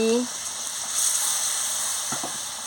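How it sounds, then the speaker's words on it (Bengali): Water poured into a pan of frying small-potato curry (aloo dum) raises a soft, steady hiss and sizzle that carries on quietly for a few seconds, with a few faint knocks near the end. "কষানো হয়ে গেছে, পরিমাণ মতন জলটা দিয়ে দিচ্ছি,"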